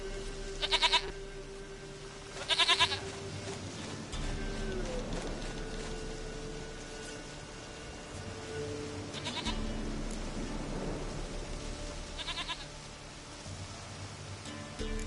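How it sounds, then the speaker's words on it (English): A goat bleats in The Witcher 3, several wavering cries spaced apart through the stretch, heard over a low rumbling game ambience and background music. "Goat of mine, dearest, sweetest goat."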